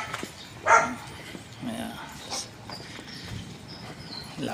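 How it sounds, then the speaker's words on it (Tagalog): A dog barks once sharply, somewhat distant, then a few fainter yips follow over a low background murmur of a voice. "Ingay yung aso."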